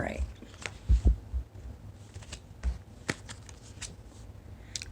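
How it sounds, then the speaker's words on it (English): Tarot cards being shuffled at a personal reading, producing soft intermittent riffling bursts and light taps, with faint background noise and brief voice-like sounds between. "And I've shuffled and shuffled and shuffled."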